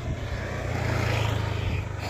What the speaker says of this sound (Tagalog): may motor na dumaan, buti naman